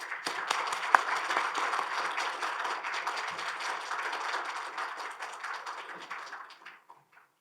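An audience at a Korean ceremony for the International Year of Quantum 2025 gives a big round of applause to welcome a professor to the stage, many hands clapping densely and continuously before fading out.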